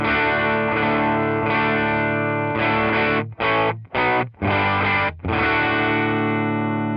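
Distorted electric guitar through a Dumble-style amp with a warm, saturated tone, sustained chords ringing out, then several short choppy stabs separated by brief silences, played alone.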